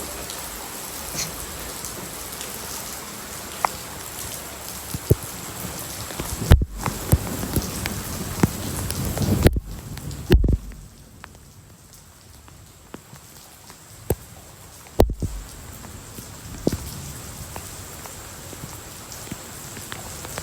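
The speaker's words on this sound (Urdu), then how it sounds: "اب نظر آ رہی ہے بارش" Steady rain falling during stormy weather, a continuous broadband hiss with scattered louder drop hits, brief dropouts and a quieter stretch midway, no voices.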